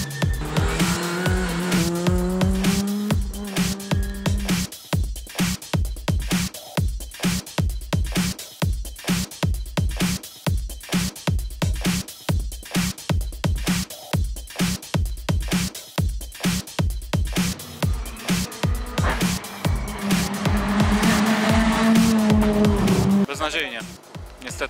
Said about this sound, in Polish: Od początku odcinka samochód przerywał, coś chyba nie tak z komputerem.